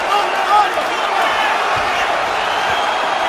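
A UFC arena crowd sings and cheers for fighter Brad Pickett, a loud, dense wash of massed voices sustained throughout, with close commentary running over it.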